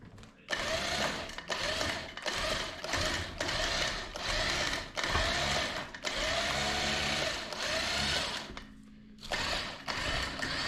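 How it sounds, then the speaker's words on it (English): A winch motor on a 1964 Jeep CJ-5 whines in repeated bursts while spooling out during a recovery, loud and close with short pauses between runs and brief faint voices. "I'm gonna have to spool out and reset my winch."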